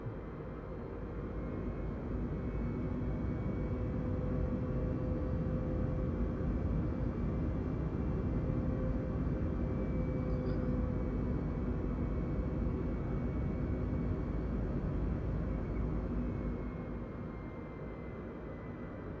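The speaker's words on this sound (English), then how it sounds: "So you can hear the sound of the afterburner." An F-22A Raptor's afterburner in the Microsoft Flight Simulator 2020 game gives a steady, loud, broadband jet roar with deep rumble that holds almost unchanged for the whole stretch and eases slightly at the end, with no talking.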